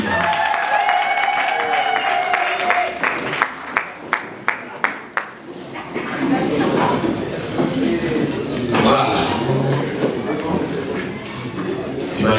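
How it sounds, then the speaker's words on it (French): Guests at a surprise birthday party break into a short burst of clapping and cheering, with a few sharp claps standing out, while voices and crowd chatter continue loudly over and after it. "sous les acclamations, bien sûr"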